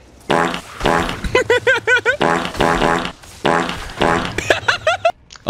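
Repeated fart sound effects from the Necromancer in Diablo 4, a loud series of buzzy, pitched blasts in several bursts, some with wobbling squeaky tones, running back to back with short gaps.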